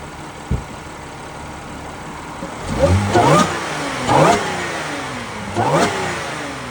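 A 2011 Audi S4 B8 with an Injen air intake accelerating hard in snowy weather, engine revs climbing and dropping through three gear changes, heard from inside the car over a steady road rumble.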